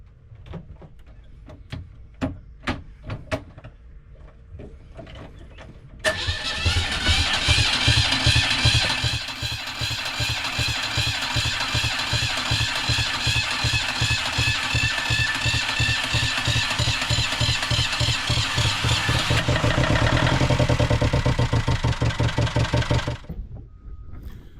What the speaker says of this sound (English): So I've talked Brandon into starting the engine.